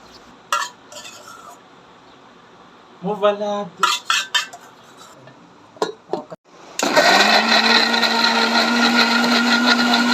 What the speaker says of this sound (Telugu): మిక్సీ జార్ తీసుకొని ఉల్లిపాయలు పచ్చిమిర్చి టమాటా వేసేసి మిక్సీ పట్టేద్దాం